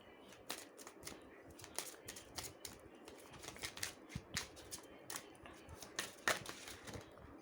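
Tarot cards are shuffled close by in a series of crisp, quick riffling and snapping bursts that repeat unevenly throughout, fairly faint overall.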